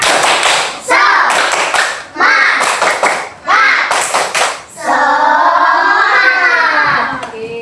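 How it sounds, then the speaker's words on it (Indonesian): A class of schoolchildren claps a quick rhythmic spirit-clap pattern in bursts, loud and close, then breaks into cheerful shouting together at the end. "Kita tepuk semangat dulu lagi sekali yuk"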